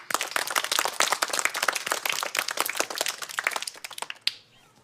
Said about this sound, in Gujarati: તો આપણે સૌ જાખોદરા સાહેબને તાળીઓથી વધાવીએ.